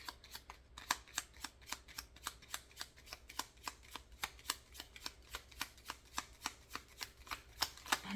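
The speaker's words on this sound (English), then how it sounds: "Let's get one of these cards." Monopoly Chance cards are shuffled and handled in quick, crisp riffling bursts. The clicks come in a steady rhythm, close and fairly quiet, with no voices.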